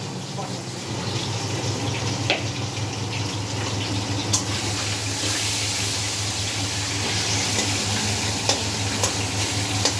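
Meat cooking in a pan, stirred steadily, sizzles loudly and continuously with scraping stir strokes and a few sharp spatters over a constant frying hiss, no voices.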